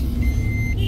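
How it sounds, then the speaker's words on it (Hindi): A car's warning beep sounding while the hand brake stays engaged, a single thin steady tone held for about half a second over a low engine rumble. "ये देखिए ये जो बीप आ रही है इससे आप पता लगा सकते हैं कि आपकी गाड़ी में हैंड ब्रेक लगा हुआ"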